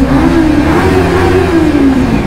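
A car engine revs hard and close, a loud sustained roar with a steady droning pitch that holds throughout, no voices over it.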